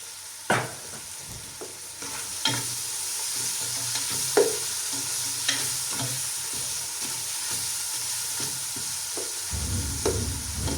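Large tomatoes sautéing in a pan with a little salt while making chicken noodles, giving a steady soft sizzle with intermittent scraping stirs and occasional clinks.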